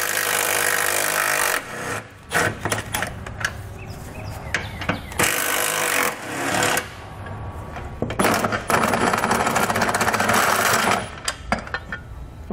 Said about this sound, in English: So we'll grab an 18mm socket and pull the bolts out.